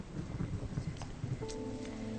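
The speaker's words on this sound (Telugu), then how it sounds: "ఇంత వర్షంలో వెళ్ళడం అవసరమా?" Heavy rain pours steadily, with low rumbles of thunder rolling underneath; a faint tonal drone rises partway through, and no one speaks.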